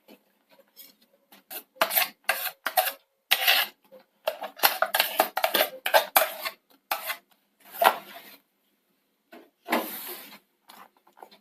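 Wheat flour is mixed with ground batter and salt in a bowl, giving a series of close, uneven scraping and rubbing strokes with short pauses in between.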